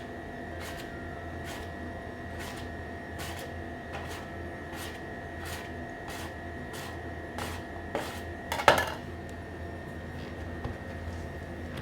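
A knife cuts vegan puff pastry dough on a worktop in a series of soft, evenly spaced taps, with a sharper scrape near the end over a faint background hum.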